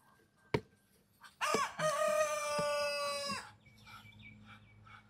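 Backyard chickens in a pen setting: a sharp cluck, then a loud, close rooster crow sustained for about two seconds, followed by softer clucking and murmuring from the flock.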